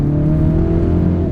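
A 2020 Mini Cooper JCW with its 2-liter four-cylinder turbo engine at full throttle makes a loud, steady droning engine note. It is heard from close inside the car with no voices.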